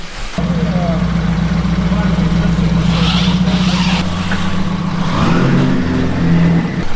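A wrecked BMW F30 engine idles and then revs as the car is driven out, a steady, close mechanical hum with a shift in pitch partway through, while people talk over it.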